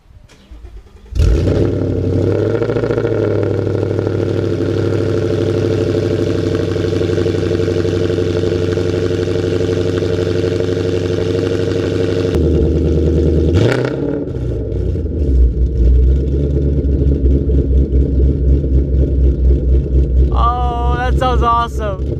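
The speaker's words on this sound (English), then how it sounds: "So here's the start of the car." A modified car engine cranks and fires, then holds a loud, steady, slightly uneven idle close by, surges in a sharp rev around the middle, and settles back into a rough, stuttering idle.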